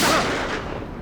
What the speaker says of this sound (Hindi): गोली चलने की आवाज कहां से है?